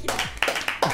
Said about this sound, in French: Ça peut s'applaudir